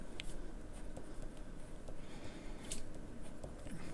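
Blue-ink Caran d'Ache 849 ballpoint pen writing on paper, a close, quiet, steady scratching with small irregular strokes and no talking.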